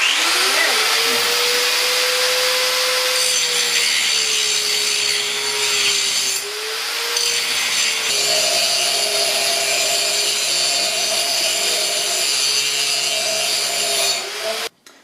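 A power saw cuts through stock for a rotary engine stand adapter, its loud, steady whine held for about fifteen seconds and briefly dipping in pitch as the blade takes load.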